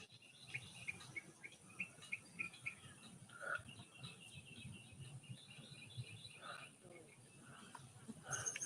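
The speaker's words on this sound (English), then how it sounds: "Isla, leave the birds alone." Small backyard birds chirp and tweet in a faint, scattered series of short calls over a low rustling outdoor background, with a quiet hum of insects underneath.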